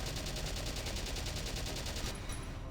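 Gunfire in the video game Valkyria Chronicles rattles out as a rapid, evenly spaced burst for about two seconds, then cuts off abruptly, leaving quieter background.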